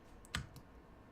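A few quiet clicks of keyboard key presses while editing in Photoshop, one sharper tap followed by a lighter one, close and isolated.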